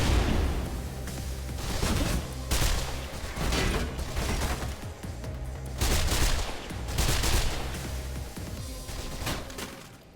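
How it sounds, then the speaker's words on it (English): Assault rifle fire in the first-person game Mirror's Edge: repeated loud bursts of automatic shots, with brief pauses between volleys and no talking. "Multiple guys with assault rifles is pretty dangerous."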